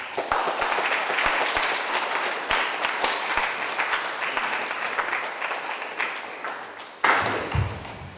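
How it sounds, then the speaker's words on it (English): Audience at a taekwondo black belt academy grading claps in a hall, with a few sharp nearby claps and thumps over sustained applause, a brief dip, then a fresh burst near the end. "So I think you should all give yourself a nice round of applause."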